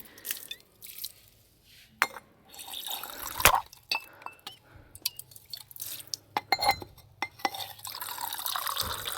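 Water pours from a clay pot and is drunk at a hillside stop near Girnar, giving irregular splashy trickles and drips with a few sharp clinks, fairly close and moderately loud, with no talk over it.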